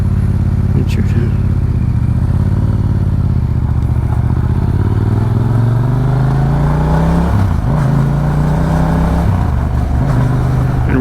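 A motorcycle exhaust drones steadily and loud while riding, its pitch climbing slowly as the bike accelerates, dipping briefly, then holding, with a rider talking over it.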